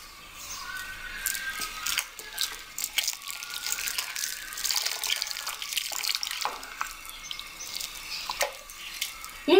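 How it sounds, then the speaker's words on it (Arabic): Milk poured into a pot of Moroccan herbel soup made with cracked wheat, a thin continuous liquid stream splashing close by, with faint clinks and no talking. "دابا غادي نزيدو الحليب"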